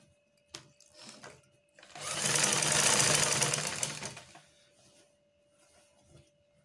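A sewing machine stitching a shift dress runs in one steady burst of a few seconds, rising and fading, with brief clicks before and after, close and fairly loud with no talk.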